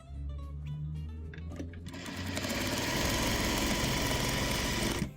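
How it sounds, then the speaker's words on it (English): A sewing machine runs steadily while stitching batik quilt squares right sides together, a loud continuous motor whir after a few soft handling sounds at the start. "I'm going to sew down this first side here"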